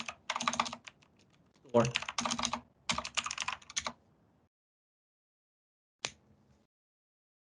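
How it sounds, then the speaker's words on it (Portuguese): Typing on a computer keyboard while entering a search into a browser tab, short bursts of close clicking keystrokes separated by pauses, with a brief spoken word partway through. "Sugiro você abrir uma tab no teu browser e a gente digitar nessa tab Unity Asset"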